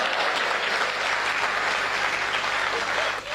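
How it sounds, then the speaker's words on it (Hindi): Steady applause from the audience at a Hindi kavi sammelan poetry gathering, a dense, continuous wash of clapping holding at an even level throughout before easing off at the very end, with no talk over it. "नहीं लग रहा तो एक बार तालियां ठोक के बताइए।"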